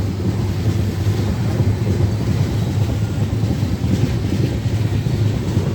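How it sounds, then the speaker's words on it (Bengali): An express train on the South Eastern Railway Adra–Purulia–Howrah Rupasi Bangla line runs at speed, producing a steady, loud, continuous low rumble and rattle of wheels on track with no pauses. "ওকে, ট্রেন এখন আপাতত যাচ্ছে।"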